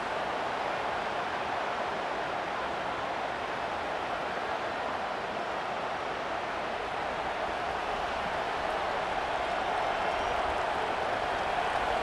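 A dense, steady roar of a large stadium crowd cheering in the College Football 25 video game during Ohio State vs Michigan, loud and continuous with no pauses, swelling slightly toward the end.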